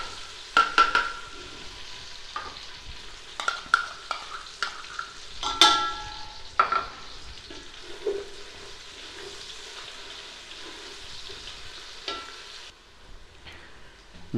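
Green garlic and ginger fry in oil in a pan for a chilli chickpea dish, with a soft continuous sizzle under scraping stirs and utensil clinks. It is heard up close with no talking.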